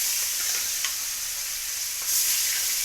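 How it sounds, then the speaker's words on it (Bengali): Pieces of catla fish frying in hot oil in a home kitchen, giving a steady, close sizzle with soft crackles and a couple of faint stirring clinks, and no voices. "এই যে এখন মাছগুলো ভেজে নেই"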